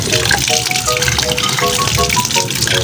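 Tap water runs and gushes steadily while live fish food for balloon mollies is rinsed and cleaned, a close, continuous splashing stream with no voices over it.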